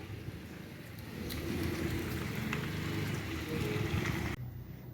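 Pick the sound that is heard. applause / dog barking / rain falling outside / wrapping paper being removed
rain falling outside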